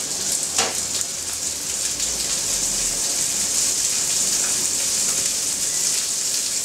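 Crayfish sizzle in hot oil in a pan, a steady close crackling hiss throughout with a few sharper pops near the start.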